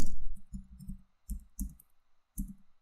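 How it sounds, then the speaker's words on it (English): Computer keyboard keys clack in short bursts of quick clicks, near and distinct, separated by brief silent gaps. "my typing is terrible"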